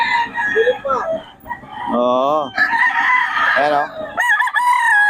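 Roosters crow several times at a poultry seller's place in Bocaue, loud and near, with clucking between the calls while someone talks over them.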